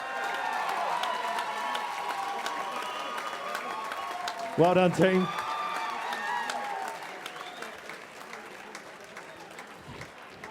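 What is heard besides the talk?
audience applause for a fighter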